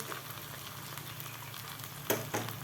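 A jowar flour flatbread cooks on a hot pan with a steady soft sizzle and crackle, plus a couple of brief louder pops near the end and no voices.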